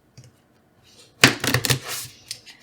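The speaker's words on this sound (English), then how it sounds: "Let me see if I can figure out how to shuffle with this thing." Disney Villains tarot cards being shuffled by hand, a burst of quick papery riffling and flicking that starts partway through after near silence, close and fairly loud.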